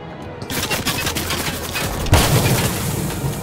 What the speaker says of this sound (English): Are they shooting from the top?